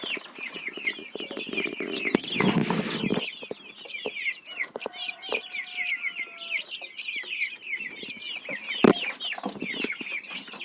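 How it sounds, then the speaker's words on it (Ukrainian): Young chicks cluck and chirp steadily throughout inside a farm building, with a burst of flapping or scuffling near the start and a sharp knock later on. "Курчатка тут у нас в цьому приміщенні."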